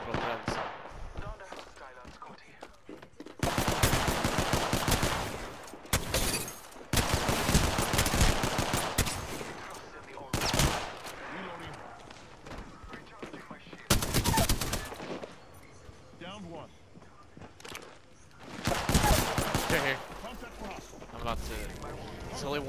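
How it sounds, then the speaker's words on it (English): Bursts of rapid automatic gunfire in the video game Apex Legends, several loud, dense volleys separated by short pauses, some near and harsh. "Getting shot from both ends."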